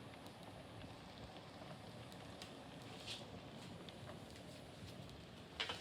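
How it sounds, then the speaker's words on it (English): Small wallpaper steamer pushing steam into wood in a boat-building shop, a steady soft hiss and rush running throughout at low level, with a couple of faint brief knocks near the end. "Just using this little wallpaper steamer."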